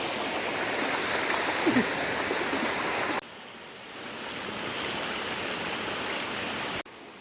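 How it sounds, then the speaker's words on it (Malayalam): Small forest stream flowing near Poomala dam, a steady broadband rush of water that stays constant throughout, briefly dipping in level partway through and again near the end. "അരുവിയുടെ ശബ്ദം കേട്ടിട്ട് സുഖമായിട്ടിരിക്കാം"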